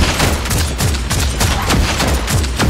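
Dense, continuous gunfire from the Warhammer 40,000: Deathwatch video game, space marines shooting at Tyranid termagants in rapid overlapping bursts, loud and close throughout with no talk.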